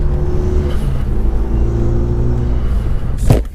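Renault Megane RS Trophy engine with a short shifter, a steady close rumble inside the cabin that swells into a brief rev near the end.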